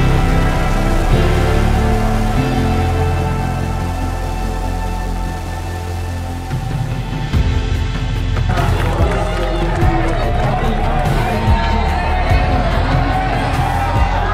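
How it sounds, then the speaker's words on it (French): Crowd at a climbing competition in Chamonix cheering and applauding, a loud, sustained roar of voices and claps that swells midway, with an announcer talking over it. "on peut l'applaudir s'il vous plaît"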